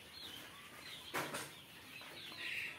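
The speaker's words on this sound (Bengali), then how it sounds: "তিথি মুরগির বাচ্চা আছে, আপনারা চাইলে এগুলো নিতে পারবেন।" Chickens on a tiger-breed poultry farm in Bakshiganj, Jamalpur, with quail nearby. A single short cluck or squawk stands out against faint farm background noise, quiet and at middle distance.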